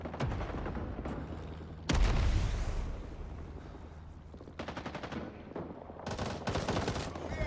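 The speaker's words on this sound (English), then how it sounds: "you can see somebody's trying to shoot through there and it's mowed down my teammates and got me" Rapid automatic gunfire crackles in bursts through a multiplayer shooter video game, with a heavy boom near the start and repeated sharp volleys of varying loudness.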